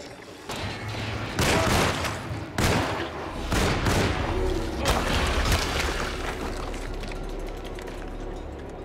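Gunfire in the horror video game Alone in the Dark: several loud, sharp shots ring out at irregular intervals over a rumbling, reverberant background that fades toward a steady low drone.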